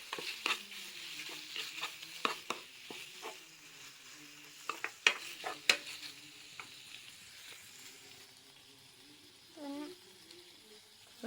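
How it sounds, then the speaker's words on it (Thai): Minced pork stir-fried in a pan for Thai pad kaprao, sizzling steadily while a utensil scrapes and stirs in irregular bursts, close and fairly quiet. "ต้องผัดให้มันสุก อ่าเดี๋ยวแม่ผัดเลย"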